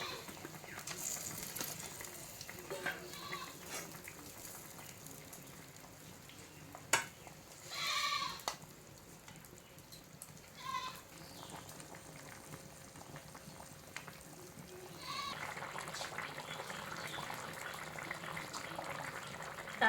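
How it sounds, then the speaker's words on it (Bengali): Thin broth of magur fish and drumstick curry bubbling steadily in a pot, a soft continuous low simmer with occasional louder bursts and sizzles. "ফুট চলে আসছে"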